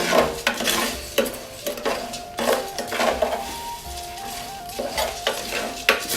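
Arabica coffee beans from Doi Tung pan-roasting, with steady rhythmic scraping and rattling strokes of stirring over a soft continuous sizzle, close and moderately loud, with no voices.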